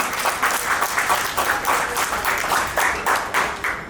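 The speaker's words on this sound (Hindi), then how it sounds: "सब प्लीज एक बार डॉली के लिए जोरदार तालियां" Loud, steady applause from an audience at a 75th birthday celebration, dense clapping sustained throughout with no talking over it.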